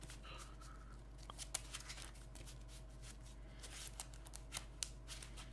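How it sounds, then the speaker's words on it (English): A deck of trading cards for a Commander (EDH) tabletop game is riffled and shuffled, giving quiet, steady papery rustling with a few sharper snaps and flicks, heard close with no talking. "I pay 1 to shuffle my deck."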